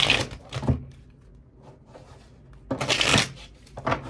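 Tarot cards being shuffled by hand: a close riffling burst, then a quieter pause, and a second longer flurry of cards slapping together, with no speech.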